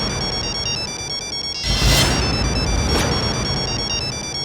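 A phone ringtone plays steadily throughout, a repeating electronic melody with bright tones, with a louder noisy burst partway through, indoors in a Hindi TV comedy scene.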